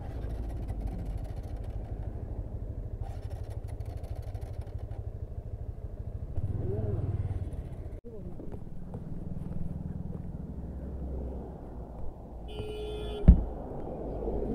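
A motorcycle with a faulty spark plug in Sangti Valley, Arunachal, struggles to start, its low engine rumble chugging unevenly and cutting in and out, with people talking nearby and a sharp click near the end.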